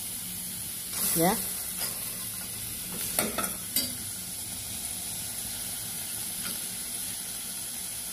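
Carrots and chicken sizzle in a pan with a little oil while cooking a pumpkin cream soup, a steady hiss with a few louder stirring scrapes and clatters, and a brief voice.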